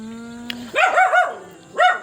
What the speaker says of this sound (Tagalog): Yan ang kasama kong aso ngayon.